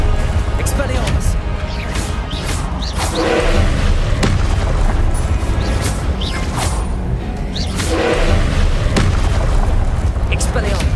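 Spellcasting combat in Hogwarts Legacy with the Expelliarmus spell, loud booms and bursting blasts recurring over a thick, busy low rumble, with speech running through.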